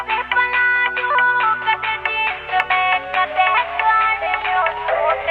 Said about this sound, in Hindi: ले फोन सुनियो किसका आ रहा है।